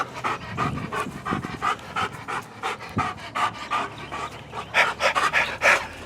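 A dog pants heavily and rapidly, close by, with quick rhythmic breaths and no talking.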